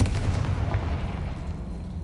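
Magical Confringo blast spells exploding in Hogwarts Legacy, a dense, loud rumbling boom that sustains and slowly fades across the moment, with no talking.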